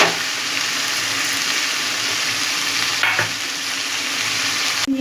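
Taro leaves cooking with coconut and chickpeas are stirred in a pan after sugar goes in, giving a steady close sizzle with a few louder scraping strokes near the middle, no voices.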